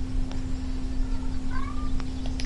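A cat meows in a series of short, high, slightly warbling calls, faint and somewhat distant, over a steady electrical hum and background noise in a room where a game is being played.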